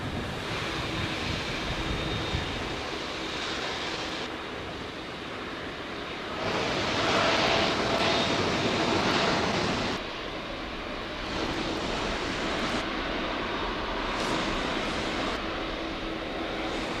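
Boeing Dreamliner jet engines roar steadily at Heathrow, a loud broadband rush laced with wind buffeting that swells and eases in waves, with no voices.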